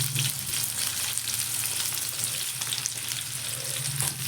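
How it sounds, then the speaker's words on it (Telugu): Egg frying in a pan at home, a steady close sizzle and crackle that runs unbroken from start to finish with no talk over it. "ఎగ్ ఫ్రై అయితే చేస్తున్నాను"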